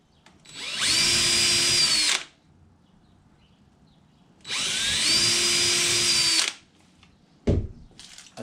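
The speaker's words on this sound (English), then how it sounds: "I'm going to pre-drill them." A power drill with a small bit whirs in two sustained bursts of about two seconds each, spinning up and pre-drilling screw holes in wood for a door knob striker plate, followed by a sharp clunk.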